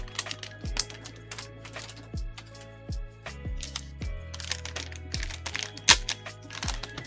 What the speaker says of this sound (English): I can just go with the keyboard.